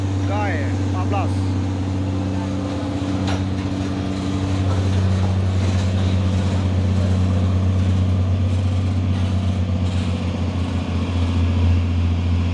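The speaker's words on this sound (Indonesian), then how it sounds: "Truk trailer Hino Lohan ini ya." A Hino trailer truck, running empty, gives off a steady, loud engine drone with strong low harmonics that holds through the whole stretch and swells a little partway in. Faint speech-like sounds sit underneath it.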